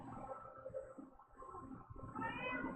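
A male cat meows alone outdoors on the other side of a door, giving a couple of soft, drawn-out meows that sound faint and somewhat distant against quiet room noise.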